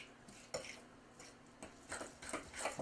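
Corn muffin batter being mixed by hand with a utensil in a bowl, giving a few irregular scraping and clinking knocks against the bowl, close and fairly quiet, with no talking.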